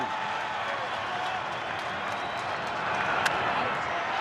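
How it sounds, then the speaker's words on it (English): Baseball stadium crowd at a Mets vs Brewers wild card playoff game, a steady, broad roar of cheering that stays fairly distant and even throughout, with a commentator's voice faintly present. "And this crowd is charged up."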